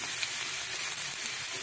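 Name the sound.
sautéing garlic and onion in a pan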